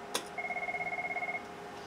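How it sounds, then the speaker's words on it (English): A phone rings during an LG Stylo 4 screen repair, a steady electronic warble pulsing in a fast, even rhythm for about a second after a brief click, then stopping. "Yep, phone's ringing."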